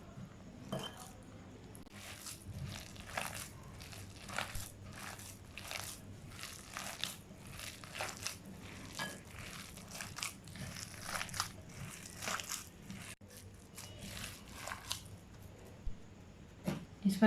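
Chicken keema is worked together with gram flour in a bowl, giving soft repeated squishing and occasional clinks of a utensil against the dish, fairly quiet and close with no talk.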